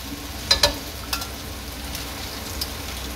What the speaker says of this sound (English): keep mixing them around. You can see that onion is starting to brown up